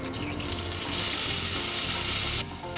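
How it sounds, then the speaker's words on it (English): Sauce thickening in a hot pan for gochujang salmon, a steady broadband sizzle with frying hiss that runs continuously, close and fairly loud, easing slightly near the end. "Use the same pan to thicken the sauces"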